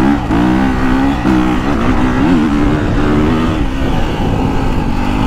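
A KTM 350 motocross bike engine fitted with an Akrapovič exhaust runs loud and close, a continuous buzzing four-stroke drone with brief throttle blips and small shifts in pitch, no talking.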